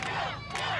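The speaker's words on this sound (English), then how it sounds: "There are also angry crowds outside the Westmead Coroner's Court 2 months later" An angry crowd demonstrating outside the Westmead Coroner's Court shouts and jeers together, a massed roar of raised voices.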